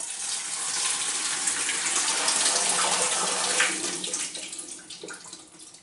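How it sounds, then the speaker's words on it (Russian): Water runs in a steady, full pour into a home autoclave holding glass jars, a bright splashing rush that swells, holds, then tapers off near the end. "Воду можно сразу заливать литр."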